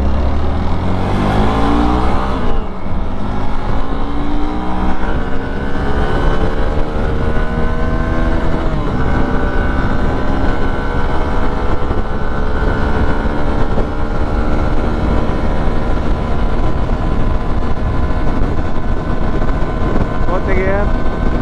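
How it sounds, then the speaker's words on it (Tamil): Hero XPulse 200 motorcycle accelerating hard during a top speed run, a steady loud engine drone climbing through the gears with heavy wind buffeting throughout, and a rider's voice faintly mixed in. "நம்ம அப்படியே பார்த்தீங்கன்னா டாப் ஸ்பீடு ஓட்ட போயிடுவோம்."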